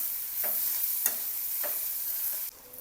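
Cluster beans being stirred into a green masala in a hot pan, a continuous frying hiss with three or four rhythmic spatula scrapes, near and fairly loud, then the sizzle drops abruptly near the end; nobody speaks.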